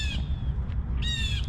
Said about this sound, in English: Oh my God, there's a crow.